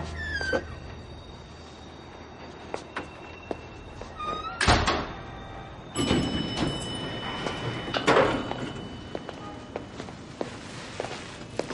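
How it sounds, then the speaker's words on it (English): A door closes with a sharp thunk, with another bang later amid shuffling footsteps and light knocks in an indoor room, no voices heard. "Close the door on your way out."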